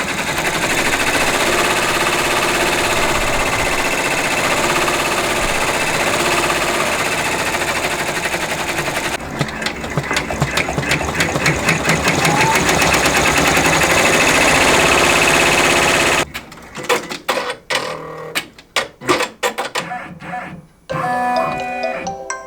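A Brother PR1055 multi-needle embroidery machine stitches a design on a reading pillow, a loud steady mechanical whir and rapid needle clatter that turns choppy and stop-start toward the end.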